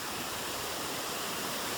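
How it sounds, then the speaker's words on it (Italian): Loud rushing waterfall at close range, a steady dense roar of falling water filling the scene without pause, heard on a mountain outing near alpine lakes. "è forte il rumore dell'acqua"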